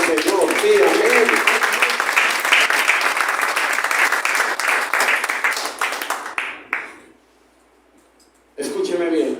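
Church congregation applauding the Lord during a Spanish-language sermon: dense, loud clapping with voices mixed in for about six seconds, fading out, then a near-silent gap before sound resumes.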